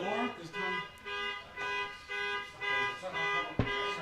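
A car alarm whoops in a repeating electronic pattern of rising and falling tones, with a short knock near the end.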